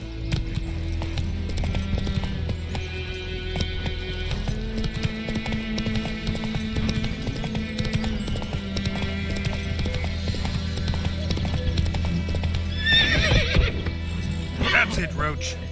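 Roach the horse gallops in The Witcher 3 with a steady, rapid clip-clop of hooves and whinnying neighs over a constant game hum, while someone talks.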